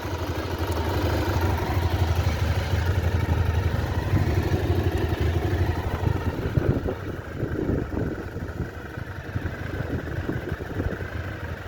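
A Honda VFR400 NC30 motorcycle engine runs steadily nearby, a loud continuous mid-pitched drone with a clattery edge throughout.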